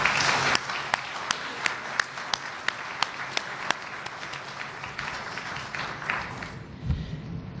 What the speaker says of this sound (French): j'ai pris l'assistance de bien vouloir les manifester par des applaudissements